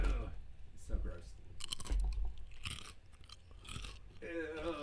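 A person imitates someone eating popcorn with loud, close mouth sounds: wet chewing and crunching in irregular bursts, mixed with vocal noises.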